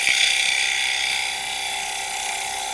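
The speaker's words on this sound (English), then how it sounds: "So with the head handle to the right, shearing through the fibres of the timber." Robert Sorby TurnMaster tool shear scraping a spinning timber workpiece on a wood lathe, giving a steady high whining hiss with a constant motor hum underneath, loud and close with no talking.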